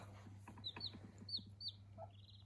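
Chicks cheeping and clucking inside a warm winter chicken coop beside a broody hen, soft scattered peeps and chirps close by over a steady low electrical hum.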